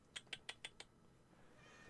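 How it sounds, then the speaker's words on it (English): A cat named Speckles meows five times in a quick, even series in Euro Truck Simulator 2, each call short and clear. Then only faint background noise follows. "That cat meows an awful lot."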